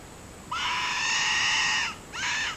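Electronic coyote and pig call blasted outdoors near palmetto scrub, giving a loud, shrill, bleating squeal held for over a second, then cut off and briefly restarted, alone against faint background noise.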